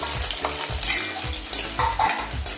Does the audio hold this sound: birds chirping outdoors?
no